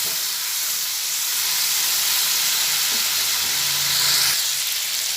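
Masala spices fry in a pan for a chhana curry, giving a continuous hissing sizzle with faint stirring clinks partway through, with no voices.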